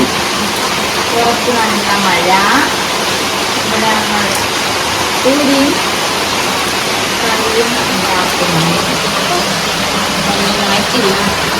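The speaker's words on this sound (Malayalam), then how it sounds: "നല്ല മഴ." Heavy rain falling at night, a dense, steady roar that never lets up, with people talking over it.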